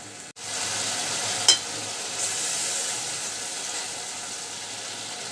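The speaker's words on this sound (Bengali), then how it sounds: "একটু কষিয়ে নিব মশলাটা" Powdered spice paste for a village-style rohu fish curry with brinjal and potato fries in a pan with a continuous bright sizzle, one brief tap of the spoon early on, steady and close.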